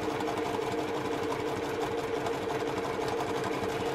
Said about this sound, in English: I'm going to start sewing very quick, very smoothly and slowly